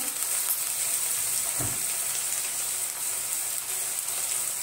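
Onion with ginger-garlic paste and salt sautés in a pan, giving a steady, moderate hiss of sizzling with one soft thump partway through and no voices.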